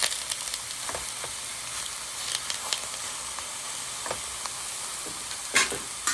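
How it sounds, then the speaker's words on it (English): Pork chops sear in a hot pan with a steady, close sizzle and occasional louder spits and crackles as they are moved, with no talk. "And then just add one more on this side just to sear it."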